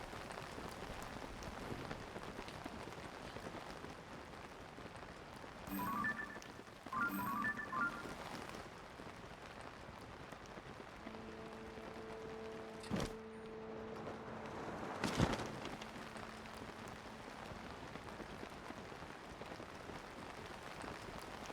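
A steady, faint patter of rain in the video game The Legend of Zelda: Tears of the Kingdom runs throughout, joined midway by a few soft chimes and brief electronic tones.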